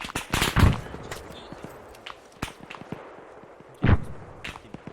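Arma 3 firefight with two heavy bursts of gunfire, one at the start and one near the end, separated by scattered sharp distant shots and crackles.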